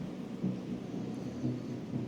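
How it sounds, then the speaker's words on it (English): In the Planetbase colony game, a lightning storm brings a low, continuous rumble of thunder, heard faintly and evenly throughout with no talk. "lightning storms, that kind of thing"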